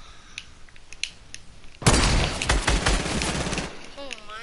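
Video game gunfire breaks out suddenly as a dense burst of rapid automatic shots, loud and close, then fades to a few scattered cracks, with a young player talking faintly underneath.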